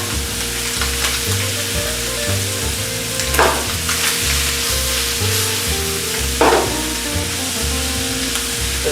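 Green beans and corn sizzling loudly in a hot pan, a continuous close frying hiss with a couple of scraping stirs partway through.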